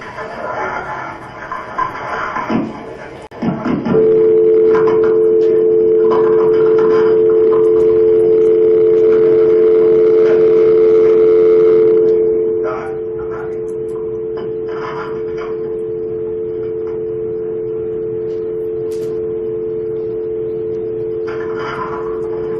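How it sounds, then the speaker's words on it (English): After a telephone hang-up, rustling and handling noise give way to a loud steady dial tone that holds for several seconds, then drops in level and continues as a sustained tone to the end. "you heard the dial tone come on that busy signal"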